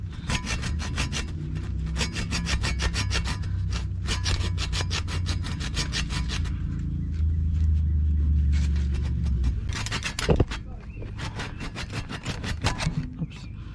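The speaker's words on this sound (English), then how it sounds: "So I'm cutting this nut, this bolt right there." A steel bolt on the control arm of a 2002 Infiniti I35 being cut during a repair, making a rapid rhythmic rasping saw stroke that runs in long bursts, pauses briefly, then resumes, close and moderately loud.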